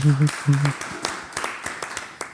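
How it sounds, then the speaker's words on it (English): A small audience at a live startup pitch-feedback event gives a scattered round of claps, sparse and light, after a voice speaks briefly at the start. "Put a round of applause."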